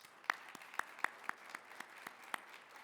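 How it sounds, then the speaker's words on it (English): Quiet applause at an awards event: a thin background of clapping with a few sharp, close claps landing at a regular pace for about three seconds. "Please give her a nice big round of applause."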